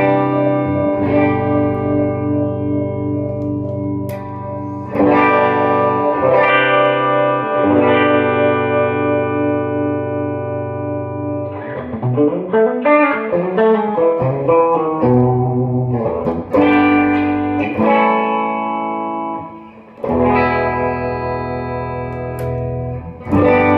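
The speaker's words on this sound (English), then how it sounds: "I'll play a couple of chords here for you and give you an idea what we've got for sound off of the Ernie Balls" Gibson Les Paul electric guitar with Ernie Ball strings playing strummed and ringing chords, with a picked, broken-chord passage in the middle, loud and close under effects-like shimmer and no speech.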